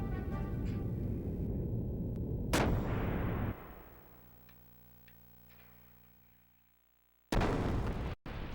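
A ship gunner fires in the video game Xenogears, with two loud, close blasts separated by a long, fading rumble.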